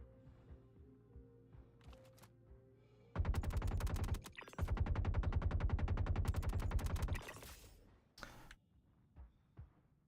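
Gunfire in the Star Citizen video game, a long fast automatic burst of evenly spaced shots that breaks briefly and then continues, loud and close, followed by scattered quieter clicks.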